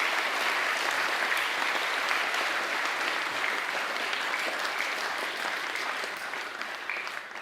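Sustained applause from an audience at a school co-curricular awards ceremony, honouring the departing chess team coach; steady, dense clapping throughout that tapers slightly at the very end.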